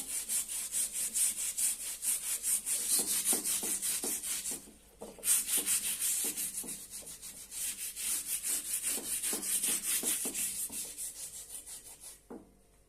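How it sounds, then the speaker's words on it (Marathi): A new stone mortar and pestle is scrubbed with a scrubber in rapid, rhythmic back-and-forth rasping strokes. The strokes are close and fairly loud, with one brief pause partway through, then they resume before stopping. "अशा घासणीच्या साह्याने थोडंसं घासून आपण धुवून घेऊया अशा पद्धतीने घासून घेऊया"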